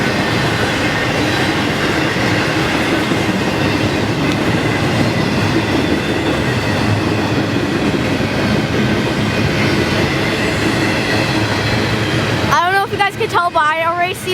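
A long CP grain train hauled by four locomotives rolls steadily past close by in Wauseon, Ohio, with continuous rumbling wheels and clickety-clack, then a person speaks briefly as the cars end.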